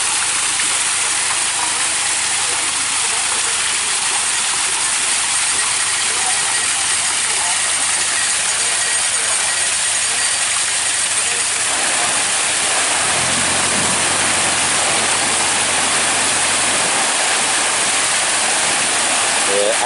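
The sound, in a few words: water rushing through canal lock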